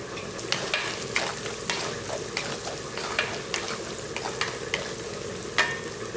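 Ginger and slit green chillies sizzle in hot oil in a pan for mutton masala, a steady frying hiss under repeated scraping stirs of a spoon, close and fairly loud.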